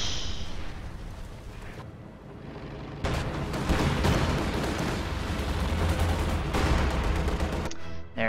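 Sustained gunfire and explosions in a World War II strategy video game as units attack a half-track, dense rattling volleys and blasts building louder midway, with no talking.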